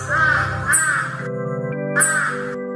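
Cartoon crow caws loudly and close, with harsh repeated calls in two bursts separated by a short gap over a steady musical background.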